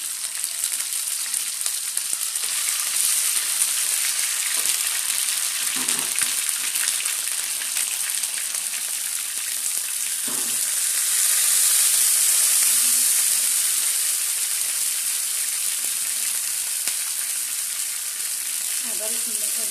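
Ginger garlic paste sizzles in hot oil, a steady crackling fry that holds loud throughout, with a few soft knocks and a brief stir partway through.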